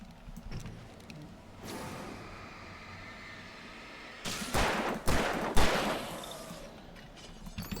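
Gunfire in the video game Alan Wake Remastered: rapid bursts of shots ring out over a dark rumbling game ambience, with a dense volley and a few sharp single blasts following, close and loud.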